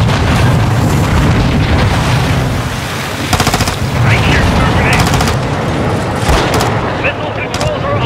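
Loud, continuous combat din from Call of Duty Modern Warfare II: dense gunfire with bursts of rapid shots and booming explosions, layered under shouted voices throughout.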